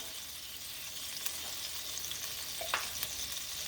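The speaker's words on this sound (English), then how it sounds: "Now we're going to add us some minced garlic." Minced garlic sizzles in a pan while ramen is being prepared, a soft continuous frying hiss with a couple of faint clinks, close and fairly quiet, no one speaking.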